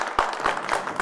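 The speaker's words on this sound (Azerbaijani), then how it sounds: "Alqışlayaq" An audience claps for a folk ashiq performer at a stage event, a short, scattered burst of hand claps at moderate volume.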